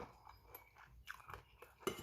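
Crunchy Thai chili pork cracklings are chewed close to the mic, with faint crisp crunches and bites breaking up a quiet background and a light clink near the end.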